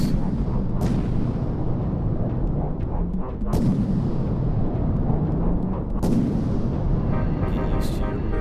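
Howitzer artillery in the Iron Rebellion video game thunders in repeated heavy booms, with sharp blasts at irregular intervals over a constant dense rumble of battle noise, loud and close throughout.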